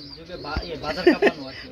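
Soft, low pigeon cooing, a couple of short throaty calls close by, with a faint voice murmuring in the background.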